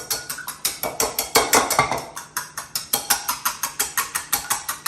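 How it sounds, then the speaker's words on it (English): Whisk beating eggs in a bowl for a three-egg omelette, a fast steady run of sharp metallic clicks and taps against the bowl, close and alone with no talk. "I'm going to whisk them up real good"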